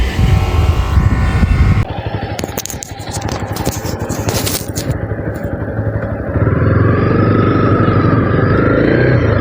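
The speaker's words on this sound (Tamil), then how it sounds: "நம்ம பைக் ஓட்ட பார்ப்போம்" A Honda CB300R motorcycle engine drones steadily up close while riding, with a burst of scraping clatter partway through before the engine settles into a lower rumble.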